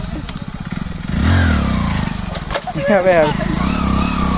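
Motorcycle engine revving hard in first gear on a hill road at night, a loud rising rumble that surges and climbs in pitch, with people talking and shouting over it.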